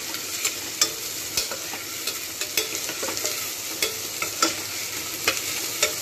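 Potatoes for veg pulav sizzle steadily in oil, with repeated light scrapes and clicks of a spoon stirring them through the pan, close and clear with no voices.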